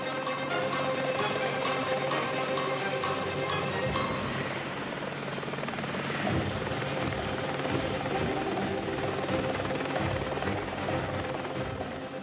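A helicopter runs on the flight deck of a large naval ship, its engine and rotor drone loud, close and unbroken throughout, with deep pulsing beneath a steady mechanical whine.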